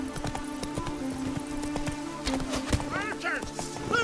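Geralt's horse Roach gallops in The Witcher 3, a rapid rhythmic clip-clop of hooves running throughout, mixed with game voices and a brief whinny-like sound near the end.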